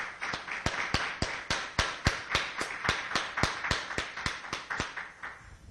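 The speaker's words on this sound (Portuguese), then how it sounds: "Vamos dar uma salva de palmas para essa palavra?" A church congregation clapping in a steady, rhythmic unison beat, sharp evenly spaced claps repeating about three times a second, close and lively with no speech over it.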